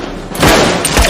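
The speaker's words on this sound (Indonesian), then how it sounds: "muncullah Teddy yang menembak secara membabi buta dan justru membunuh bestinya si Huber juga" A burst of movie gunfire, a gunman shooting wildly: after a short hum, loud, close shots crack out in quick succession, with one heavy thump near the end.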